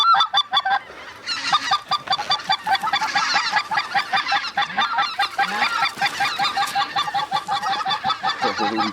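Many geese honk loudly and continuously close by during a waterfowl hunt, a dense overlapping chorus of calls.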